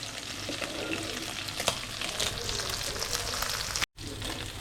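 Barramundi fish frying Koli style in a pan, a steady, even sizzle at moderate volume with occasional small pops and a momentary cut near the end, with no voices.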